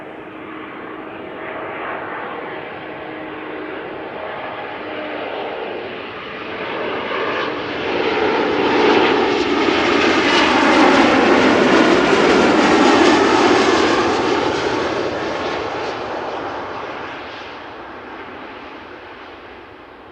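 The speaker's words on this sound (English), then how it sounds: "So, Embraer 190 arriving from Berlin." A KLM Embraer 190 jet arriving at Amsterdam Schiphol, its engine roar rising from a distant hum to a loud, broad rush overhead before tapering off, heard alone without talk.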